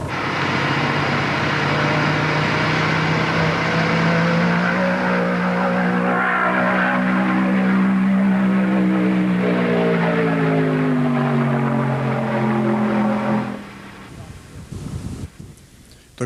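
A land speed race car tears across the Lake Gairdner salt flats in Australia, its engine roaring loud and close with a steadily climbing, droning note and heavy wind rush, then the power abruptly drops away into quieter coasting noise.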